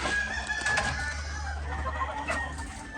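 White Leghorn hens cluck and murmur in a farm coop, with soft overlapping calls over a steady low mechanical hum and nobody speaking.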